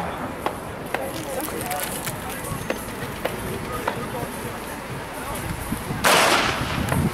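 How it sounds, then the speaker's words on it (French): A starting pistol fires at a cadets' track cycling points race on a velodrome: one sharp, loud crack near the end, over a busy background of crowd noise and scattered clicks. "le coup de pistolet dans quelques instants qui annoncera le départ officiel"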